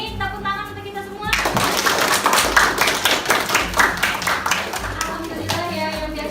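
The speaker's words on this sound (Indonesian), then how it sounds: "Tepuk tangan untuk kita semua." A classroom of children claps together at the close of a lesson, a steady burst of hand clapping with kids' voices mixed in, rising after a brief spoken lead-in and tapering near the end.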